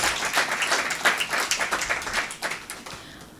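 Audience applause at a closing evening honouring Moroccan-Canadian literary creativity, a steady wash of many hands clapping that carries evenly through the whole stretch without a voice over it.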